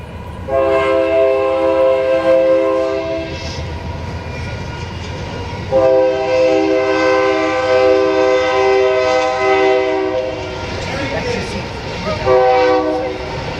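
A train rolls past with its horn sounding in long sustained multi-tone blasts, repeated three times over a continuous loud rumble of the cars, close and dominant throughout.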